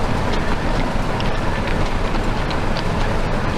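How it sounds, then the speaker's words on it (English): Rain falling on a vegetable farm, a loud dense hiss that stays steady and unbroken throughout, with no voices. "I'm done working in the rain."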